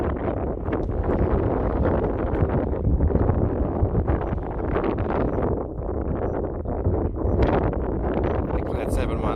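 Gusts of wind buffet a microphone outdoors on a windy day, a loud, constant low rumble and roar that runs throughout, with a voice faintly mixed in.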